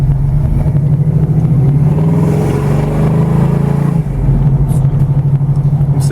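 A 1972 Pontiac LeMans GT with a 400 engine accelerates hard, its loud, steady engine roar close and dominant throughout, with a brief dip around the four-second mark before the drone resumes.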